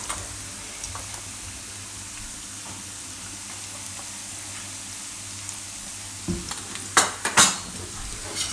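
Red Kashmiri chili being stirred into cooked onions in a pan, a soft background sizzle, then a few sharp spoon scrapes and clinks against the pan near the end.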